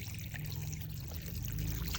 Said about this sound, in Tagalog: Tapos ating lalagyan na to guys ng tubig